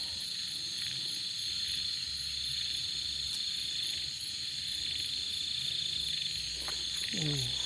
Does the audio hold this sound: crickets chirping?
yes